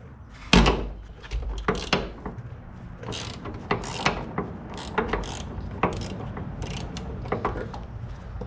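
Close, loud metallic clicks and clunks from a ratchet wrench breaking loose 18 mm bolts on the links of a Dana 44 axle, sounding in irregular bursts with short pauses and no talking.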